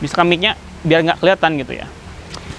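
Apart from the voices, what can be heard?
No distinct noise like a dog, phone or traffic.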